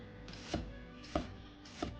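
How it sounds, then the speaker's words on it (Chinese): Knife chopping garland chrysanthemum stems on a cutting board, three separate sharp thuds at an even, unhurried pace, close and clear over a quiet background. "再像这样切碎"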